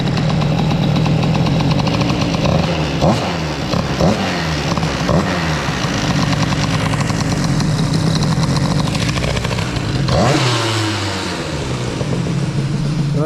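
A derestricted Yasuni C30 scooter engine runs loud and close, a buzzy two-stroke drone with repeated throttle blips and revs that rise and fall, then a sharp rev drop near the end.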